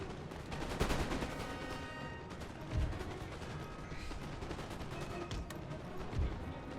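Video-game battle in the Netherlands, with dense, continuous gunfire and volleys forming a steady roar and a few louder bursts standing out, no talking.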